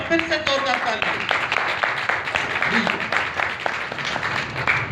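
Congregation applause at a church service, dense clapping that starts under a speaker's voice and continues as a sustained crowd wash.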